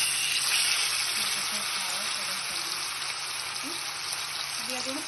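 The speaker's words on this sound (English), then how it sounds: "So we are going to put this in the hot oil." Marinated tandoori chicken pieces frying in about three tablespoons of hot oil, a steady loud sizzle and crackle with light spatter throughout, no talking.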